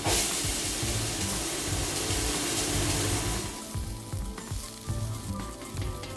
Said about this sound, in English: I'm going to put these in with the rest of the onions